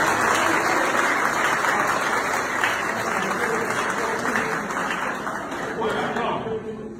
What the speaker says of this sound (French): Acclamons le DG.